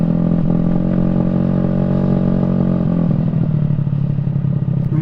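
A loud motorcycle engine drones steadily at close range, a rough, throbbing idle with a rattly edge that shifts pitch slightly partway through, with no talking over it.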